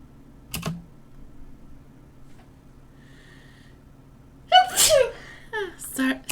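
A single loud, abrupt human sneeze bursting out in a quiet room, followed by a few breathy sounds, with faint keyboard-like clicks earlier.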